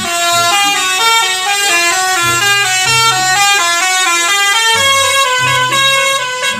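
Toy bus telolet horn plays a bright, loud multi-tone melody, stepping rhythmically through repeated musical phrases for several seconds, with no talking over it.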